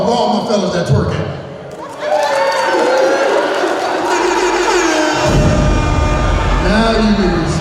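A comedy audience at the Granby Theater breaks into loud crowd noise with cheering and applause, rising after a short lull and building into a dense roar near the end, with voices mixed in.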